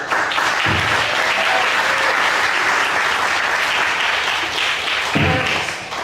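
A city council meeting audience applauds the local cheer coaches with a steady, full roar of clapping that holds at an even loudness throughout.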